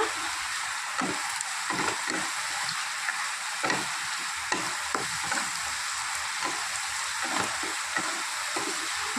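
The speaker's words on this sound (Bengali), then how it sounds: "ভালো করে সব কিছু কষিয়ে নিতে হবে" Spice paste for a pomfret curry sizzles steadily in a hot pan, broken by frequent scraping clacks of a spatula stirring it, close and continuous with no talk.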